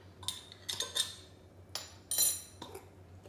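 A metal spoon clinks against a glass jar of lutenitsa sauce in a few quick, bright knocks and rattles, clustered in short bursts at close range with no talk.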